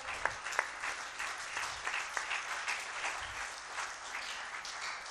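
Soft, scattered clapping from a crowd at a Hindi poetry gathering continues steadily, fairly faint and thin throughout.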